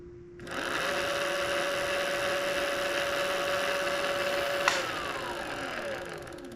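A Bafang BBSHD e-bike mid-drive motor runs with its chain off, a steady electric whine and smooth mechanical hum with a brief click near the end before it winds down slightly.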